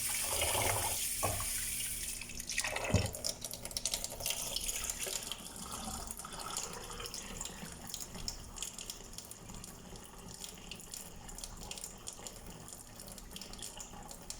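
Rice being rinsed under a running kitchen tap: steady splashing water flow with stirring and swishing sounds, close and continuous, no talk.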